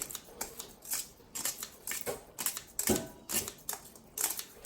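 Repeated crisp snipping clicks in an irregular rhythm as scissors cut through rinsed glass noodles close to the ear, with no talking.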